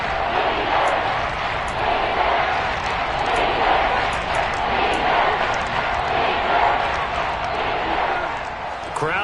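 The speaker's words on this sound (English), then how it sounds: "Crowd getting in it a bit already" Stadium crowd at a football playoff game roars in a steady, loud wash of cheering that holds throughout, with scattered sharper shouts over the din.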